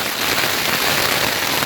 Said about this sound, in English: it's supposed to rain the entire night and all morning